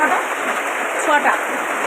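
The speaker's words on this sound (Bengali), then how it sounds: "আমাদের এখানে বিশাল বৃষ্টি হচ্ছে।" Heavy rain pouring down outdoors on an evening, a dense, steady hiss of falling water heard alone at moderate loudness without a break.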